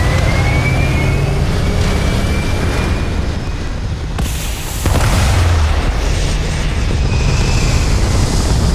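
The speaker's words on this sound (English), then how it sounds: "Always a satisfying moment to return to your ship. Pressure holding. Takeoff looks good." A spaceship lifts off in the video game Starfield with a loud, continuous broadband roar that dips briefly and then surges back heavier midway, rumbling steadily to the end.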